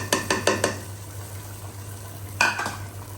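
Boiled dal poured and stirred into a pot of mutton curry: a quick run of spoon clanks and scrapes against the pot, a quiet simmering pause, then another burst of stirring clatter.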